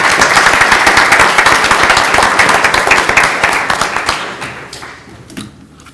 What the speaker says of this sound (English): one final round of applause for all of our PTA and PTSA presidents